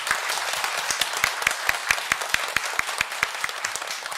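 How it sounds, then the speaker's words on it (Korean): A congregation applauds at an Easter morning church service, a thick steady roar of clapping with a regular beat of louder claps running through it. "우리 하나님께 영광의 박수 올려드리겠습니다."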